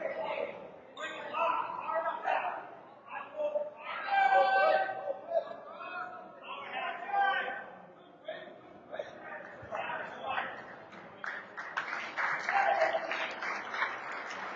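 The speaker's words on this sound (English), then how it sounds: "Braintree bench and the coaching staff applauding the effort" At a high school wrestling match, Braintree's bench and coaching staff clap in scattered bursts amid gym chatter and a commentator's voice, with the applause patchy and partly under the talk.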